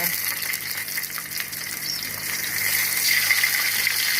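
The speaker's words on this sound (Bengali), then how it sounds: "তেলটা গরম হয়ে গেছে এখন আমি এখানে মাছটা দিয়ে দিচ্ছি" Fish lowered into hot oil in a home kitchen crackles and sizzles steadily, a dense continuous frying hiss that swells slightly louder toward the end, close by with no talking.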